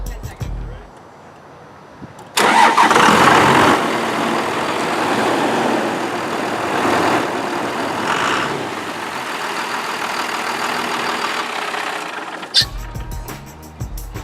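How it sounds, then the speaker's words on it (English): A Dodge pickup truck from 1994 or 1999 cranks and catches, then a loud, steady engine roar carries on for about ten seconds before cutting off, up close. "these are my pickups. Let's fire them up."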